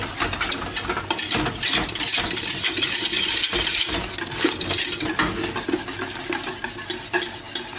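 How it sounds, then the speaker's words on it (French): Waffle batter made with Maroilles cheese and a pinch of salt is stirred in a bowl, giving close, continuous wet scraping and swishing with faint clinks of the utensil. "Et on mélange."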